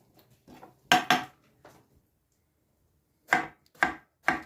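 Striped eggplants being chopped with a knife on a board into chunks, giving sharp, close cuts in small clusters separated by pauses, with no talk.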